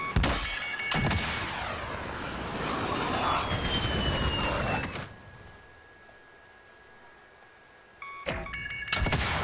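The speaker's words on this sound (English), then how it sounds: "Yo, he got a VTOL." A VTOL aircraft engine in a video game roars loudly with a sweeping whine, drops to a quieter hum, then surges again near the end; no voices.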